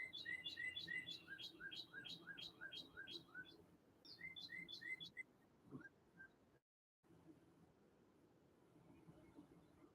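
A small pet bird indoors chirps in rapid, repeated high tweets, quick bursts in bunches over the first few seconds, then thinning out into quieter room noise with a brief dropout.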